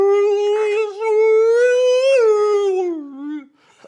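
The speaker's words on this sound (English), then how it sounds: "It's like a whale sound." A whale-like call sounds as one long, loud, tonal moan that holds steady, swells slightly, then bends downward and fades out over a few seconds.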